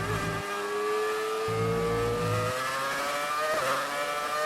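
A McLaren race car in the F1 2019 video game's retro event at Silverstone screams along with a rising engine whine, stepping through gear changes, with one brief burst of extra noise midway.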